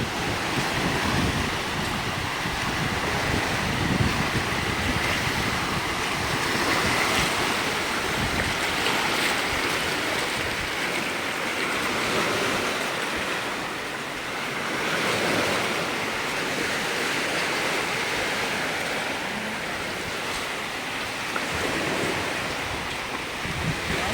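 Ocean waves washing onto the beach at high tide on Boracay, a continuous surf roar with slow swells and wind noise on the microphone, steady and fairly loud with no talking.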